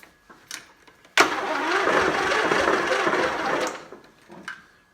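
A Craftsman DLT 3000 lawn tractor engine cranks over on a dead battery, a sudden loud grinding starter churn that runs for about two and a half seconds and stops without catching, with faint clicks before and after.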